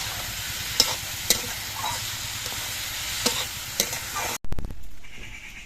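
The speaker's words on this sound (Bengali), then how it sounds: "আস্তে আস্তে জাল দিয়ে কচুগুলোকে ভেজে নিতে হবে" Steady, close sizzling of taro pieces frying in a pan over low heat, with a few sharp clacks of stirring, until it abruptly cuts off near the end.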